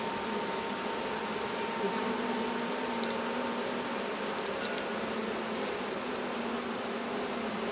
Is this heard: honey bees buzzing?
yes